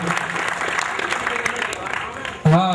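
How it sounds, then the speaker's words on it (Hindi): A kavi sammelan audience at a Swadeshi mela applauds to welcome a poet: a dense, steady wash of clapping that runs for over two seconds, with a voice cutting in at the very end. "जोरदार ताली से स्वागत करें आशीष अनल"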